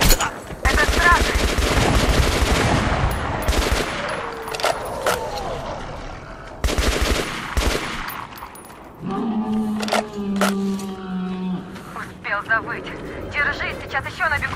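Bursts of rapid automatic gunfire from a first-person shooter set in the Metro Last Light Redux underground world, loud and repeated across the clip against monsters, with clinking brass and equipment rattles and a voice speaking in between.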